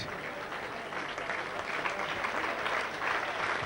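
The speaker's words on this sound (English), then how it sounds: "the applause you can hear are for Mike Gregory as leaves the field." Crowd applause at a 1993 rugby league match between Bradford and Warrington as a player leaves the field, a dense, continuous wash of clapping from a large stadium crowd, distant and sustained.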